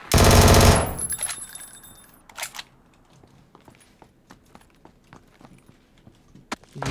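Loud close machine-gun fire in PUBG rattles in one dense burst at the start, then gives way to scattered distant shots and light footstep-like taps.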